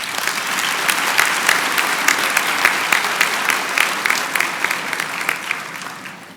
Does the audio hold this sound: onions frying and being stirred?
no